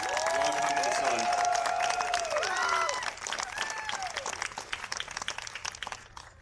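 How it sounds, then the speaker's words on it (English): Audience applause and cheering at an outdoor RobotX 2024 robotics competition awards ceremony, loud and sustained from the start, with whistles and shouts on top, thinning into scattered claps and voices by the end. "Just a round of applause for them real quick, if you don't mind."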